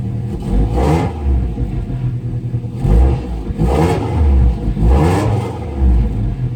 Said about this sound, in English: let's fire it up